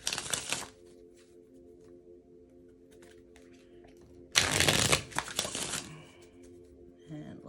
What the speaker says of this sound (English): I'm just gonna do a quick shuffle because there was a lot of cards to fall out.